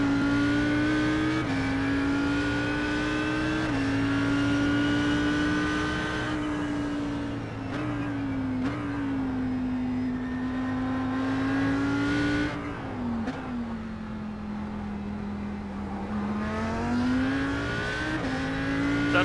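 An Audi race car in the iRacing sim carries a loud, sustained engine drone that rises through the gears, dips into brief lifts and downshifts, then climbs again, with no talking over it.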